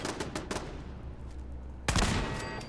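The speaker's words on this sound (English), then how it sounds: "What are those turrets shooting at?" Automated turrets firing in Fallout 4, a quick burst of close shots, then a lull, then another loud burst of rapid machine-gun fire.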